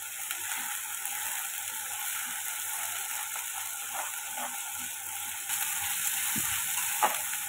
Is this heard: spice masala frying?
yes